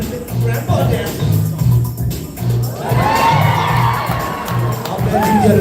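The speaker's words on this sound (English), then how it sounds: "I'll bet you get another cheer if you do that again" A crowd at a city centennial painting unveiling cheers and whoops loudly over rhythmic dance music, with children shouting and the noise building and holding steady.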